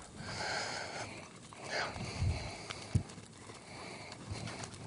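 A horse in complete tack with a lunging caparison moves in a circle on a lunge line, its hooves giving faint, irregular thuds over a soft background with a few snorting breaths.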